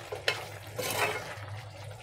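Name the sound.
stirring ridge gourd and chickpea curry in a pan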